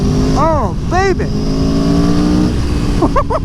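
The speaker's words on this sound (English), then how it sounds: "Hear that beautiful V4 sound, listen to it." Aprilia Tuono V4 1100 Factory motorcycle with its V4 engine, revving loudly up and down in several sharp, rising blips over a steady engine drone, close to the microphone.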